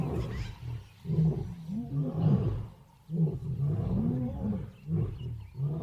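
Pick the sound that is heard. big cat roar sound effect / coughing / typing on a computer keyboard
big cat roar sound effect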